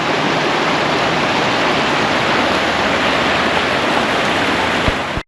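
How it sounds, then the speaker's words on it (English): Paint Creek rushes in a loud, constant broadband roar of flowing water, steady throughout with no voices before it cuts off abruptly at the end. "Listen to the sound of that water."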